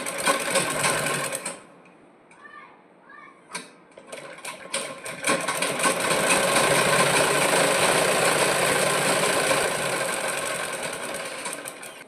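A sewing machine stitches a blouse strip: a short burst, a quiet pause with light handling clicks, then a long, loud, steady run of fast needle whirring.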